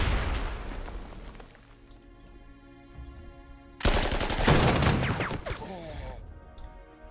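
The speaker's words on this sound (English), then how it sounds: "I actually need to hit them with my artillery here" Artillery fire strikes infantry in the strategy game Panzer Corps 2: bursts of rattling gunfire give way to a sudden heavy explosive blast midway, loud and full, then trail off into crackling debris.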